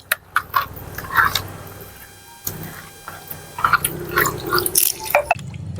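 Fish being washed by hand in water with turmeric and salt, giving intermittent splashes, drips and trickles close by, with short pauses between bursts of water.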